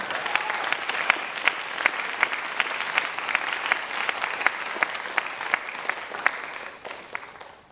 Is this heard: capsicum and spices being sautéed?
no